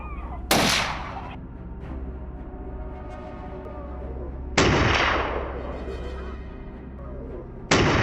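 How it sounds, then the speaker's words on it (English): Three sharp hunting-rifle gunshots in a forest spaced several seconds apart, each a loud crack with a rumbling echo fading into a quiet outdoor background. "Gunfire once again stirred the forest, forcing the remaining boars to flee."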